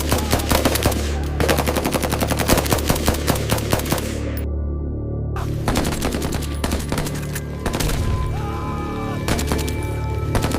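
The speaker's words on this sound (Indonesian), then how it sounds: "tembakan AK-47 memecah suara hujan" Rapid AK-47 automatic rifle fire rattles in long, loud bursts, broken by a brief pause, then resumes with heavy continuous shots.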